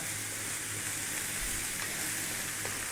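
Chili powder, cumin, coriander and turmeric sizzle and fry in a pan for a prawn curry, a steady close crackling hiss that runs without pause and with no voices.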